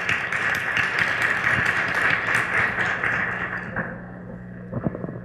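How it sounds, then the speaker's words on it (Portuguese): Audience applause welcoming a lecturer to the stage at a Portuguese-language talk on competency-based management: a dense, steady wash of many hands clapping for about four seconds, then fading to a few scattered claps near the end. "Vamos receber com uma salva de palmas a nossa palestrante, Alexandra Pereira dos Santos."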